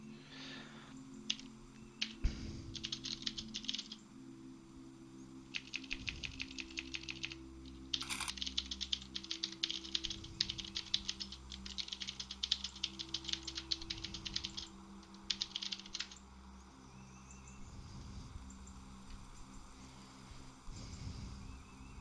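Quick bursts of typing on a computer keyboard during a tabletop Tomb of Annihilation game session, clustered runs of light clicks separated by brief pauses, fairly close with a quiet room behind.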